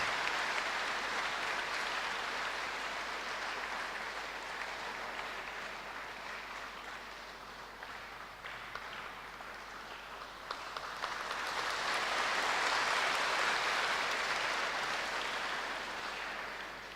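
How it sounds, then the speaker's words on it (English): Congregation at a regional youth convention morning mass in Kohima applauding, a long sustained wash of clapping from a large crowd that dips slightly midway and then swells again before easing off. "Please give a big round of applause."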